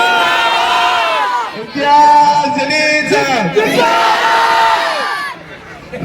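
A large crowd at an outdoor political rally roars and shouts slogans in unison, loud and sustained across two swelling waves with a short dip in between, and no clear single voice above it.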